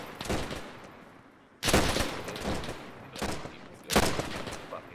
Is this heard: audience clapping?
no